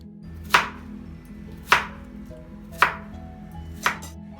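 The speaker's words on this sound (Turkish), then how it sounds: "Şimdi sebzeleri yıkadıktan sonra kabuklarını soymadan aynı incelikte dilimliyoruz." A knife slices through washed, unpeeled vegetables for ratatouille on a cutting board, four sharp, evenly spaced cuts about a second apart, close and clear with no talk.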